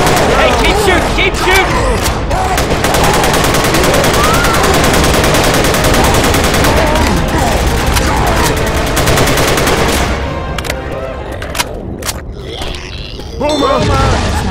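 Dense gunfire in Left 4 Dead 2, rapid overlapping shots and bursts filling most of the stretch before thinning to a few sharp reports near the end, with shouting voices mixed in.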